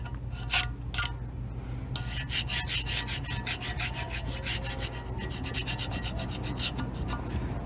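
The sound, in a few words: scraping the gasket surface of a cast iron intake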